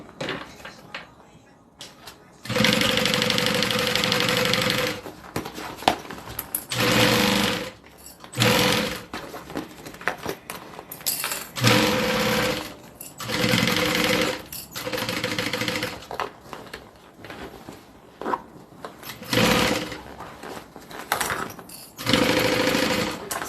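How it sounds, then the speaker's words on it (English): A sewing machine stitching layers of a fabric notebook holder together in repeated long runs of fast, loud mechanical whirring, broken by short pauses between bursts, close up and without talk. "Sew this together."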